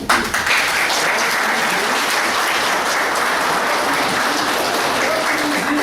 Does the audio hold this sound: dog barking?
no